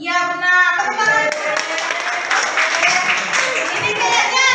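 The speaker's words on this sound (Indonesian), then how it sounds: "Tepuk tangan." Classroom of children clapping together, a loud, steady round of applause that starts after a brief bit of speech and carries on to the end.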